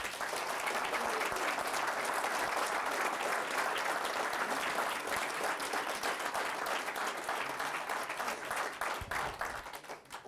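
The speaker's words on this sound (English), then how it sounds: "Please join me in a round of applause." A live audience gives a steady round of applause for Jack Heath, host of a New Hampshire radio show, at a speaking event in Portsmouth; dense clapping holds for about ten seconds and thins slightly near the end.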